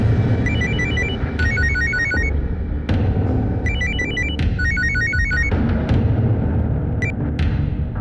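An outgoing phone call rings through in a crime drama: a melodic electronic ringtone repeats in short bursts, pausing between rings, clear over a steady low background bed with no talking.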